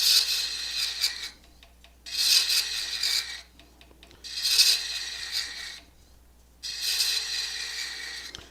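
A metal lathe turning at about 300 RPM cuts threads across a bevel in four rasping passes, each a couple of seconds long and separated by short quieter gaps, close and fairly loud.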